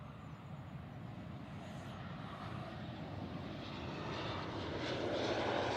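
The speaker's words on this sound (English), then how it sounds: "Embraer 190 coming in from Paris Charles de Gaulle." An Embraer 190 airliner arriving from Paris lands at Manchester Airport, a broad, steady jet engine roar that grows slowly louder and nearer over several seconds, with no talking.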